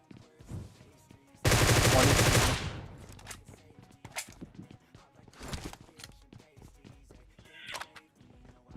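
Groza rifle in BGMI firing one loud, rapid automatic burst of about a second, followed by scattered single shots, footsteps and small game effects.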